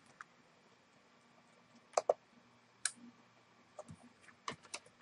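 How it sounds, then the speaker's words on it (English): Computer keyboard typing heard as sparse, irregular clicks and taps, a few sharper keystrokes standing out against a quiet room. "I seriously hate typing."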